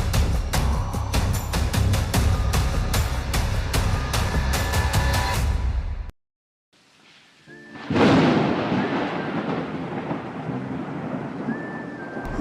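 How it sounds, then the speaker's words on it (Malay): Loud, dense rain pours steadily, broken by a brief near-silent gap, then a heavy downpour resumes with a rumbling wash of sound. "Hujan pun mula turun"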